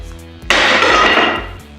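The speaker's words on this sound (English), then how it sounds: "the only thing I really needed the hammer for was to knock all the muck and the rust out around from the nut on the track bar" A hammer knocking muck and rust from the track bar nut on a Jeep MJ Comanche during a spring pack install: one sharp metallic strike that rings and decays over a second, close up, with no voices.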